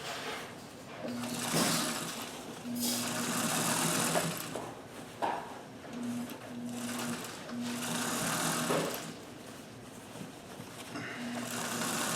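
A sewing machine stitches the hem of a jeans pant leg in several steady bursts with short pauses between runs, close and fairly loud with no talking.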